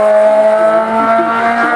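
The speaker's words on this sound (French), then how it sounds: "À lui sur le Volkswagen Sirocco Orange, véhicule très connu." An orange Volkswagen Scirocco race car at the La Pommeraye hill climb roars loudly and steadily as it passes close by under sustained engine load.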